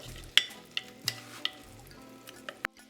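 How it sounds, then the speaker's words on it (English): Fresh aromatics sweat in a pan as a spoon stirs them, a low steady sizzle broken by several sharp taps and scrapes of the utensil against the pan, close and quiet. "Now stir the ingredients together and let it sweat."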